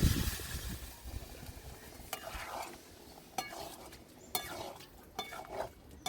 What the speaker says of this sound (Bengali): এঁচোড়ের তরকারিটা আমার ফোটা আরম্ভ হয়ে গেছে।